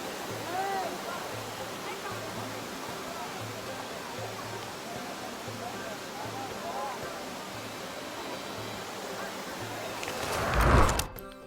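Natural spring water in Salalah, a steady rushing and splashing wash of flowing water heard up close, with a louder burst of splashing near the end.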